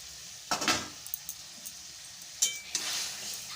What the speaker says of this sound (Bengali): পটলটাকে আমি এবার একটু মশলার সাথে কষে নিচ্ছি।